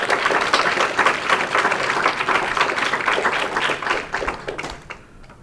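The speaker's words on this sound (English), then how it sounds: "One more round of applause for Danny." A high school poetry slam audience applauds poet Danny with loud, close, dense clapping that holds steady for several seconds before thinning out and fading at the end.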